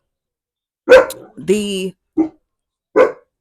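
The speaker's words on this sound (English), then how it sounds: "And I apologize for my dog barking in the background." A dog barks a few times in the background at home, short, fairly loud yaps spaced apart, with a brief whine between them and someone speaking.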